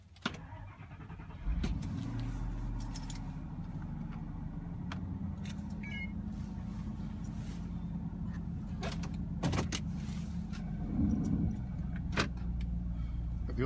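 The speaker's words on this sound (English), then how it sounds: "this is just a quick video of the car starting and driving" A Ford F-150 Lightning electric pickup starts and idles with a low steady hum, joined by jangling keys, clicks and brief mechanical whirs from the automatic door locks.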